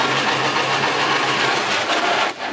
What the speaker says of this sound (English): Then just angle the drill like this way.